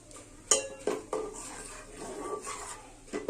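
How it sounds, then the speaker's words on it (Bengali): A spoon stirs custard powder into boiling milk in a pot, with several sharp metallic scrapes and clinks against the pot in an irregular rhythm, close and fairly quiet. "কাস্টার্ড পাউডার দেওয়ার সঙ্গে সঙ্গে কিন্তু দুধটা ভালোভাবে নাড়তে হবে"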